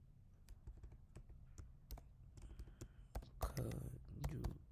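Quick, irregular keystrokes clatter on a computer keyboard at close range, a burst of text typed into a PowerPoint text box, with soft speech mixed in.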